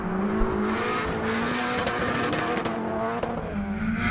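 A V10 Viper-powered Nissan S15 drift car roars at competition, engine loud and steady with revving pitch shifts and tyre squeal, close and continuous throughout.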